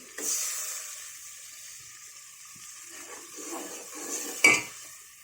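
Tamarind water pouring into a hot pan of tempering for a cluster bean curry, a sharp hiss and sizzle that starts loud, fades to a soft simmer, then flares again with a clink of a utensil near the end.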